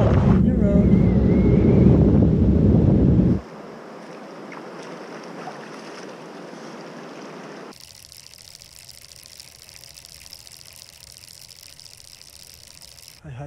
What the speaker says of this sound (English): Now it seems it's blowing south to north.